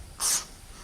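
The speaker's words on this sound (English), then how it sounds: "Ooh, X body spray. Here we go. It's Calvin Klein Euphoria." Calvin Klein Euphoria body spray from an aerosol can, giving one short, close hiss of about a fifth of a second over a faint background.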